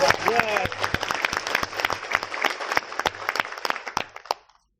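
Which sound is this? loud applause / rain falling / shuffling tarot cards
loud applause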